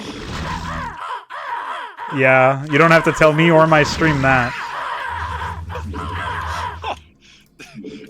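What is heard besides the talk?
crow units cawing in a video game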